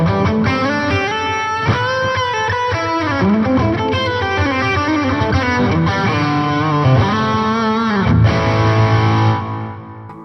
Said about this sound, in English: Let's add some reverb and delay.